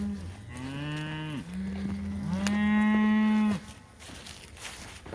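Cattle mooing on a pasture of a leased farm cleared of thorn trees and cedars, two long, loud, close moos one after another with no talk over them.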